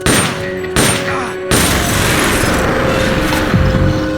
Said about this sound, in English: Somebody, an explosion?